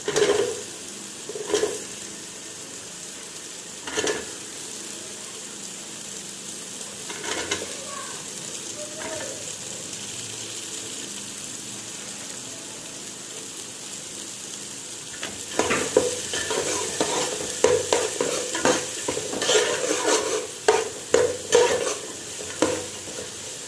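Onion, garlic and bay leaf frying in a pan over high flame, a soft steady sizzle with scattered stirring scrapes that grow busier and louder in the second half; a voice is faintly present at times.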